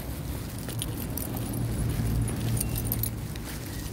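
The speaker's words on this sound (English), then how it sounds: "keys." Keys jangle amid steady car and traffic noise inside a vehicle, a continuous light metallic rattle running through the whole stretch without speech.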